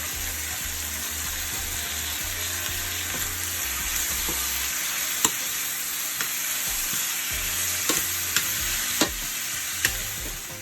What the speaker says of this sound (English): we're just gonna go ahead and mix this up